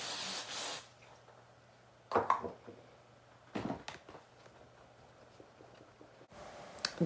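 A short hiss of aerosol hairspray bursts at the start, followed by a few quieter sprays and faint rustling in a quiet room.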